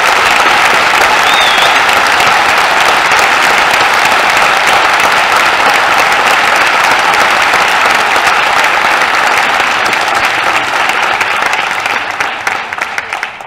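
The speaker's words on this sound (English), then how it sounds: "Let's give them another round of applause." A graduating senior class audience at an honors night gives a long, loud, dense round of applause that holds steady for over ten seconds before thinning out at the end.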